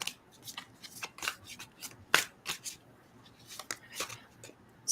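A deck of tarot cards being shuffled up close during a live reading, a steady rhythm of soft papery slaps and riffles, each burst short and crisp, at moderate volume with no talking over it.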